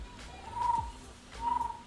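A person whistles through their teeth in beatbox style to imitate an owl, making two short, faint hooting tones about a second apart.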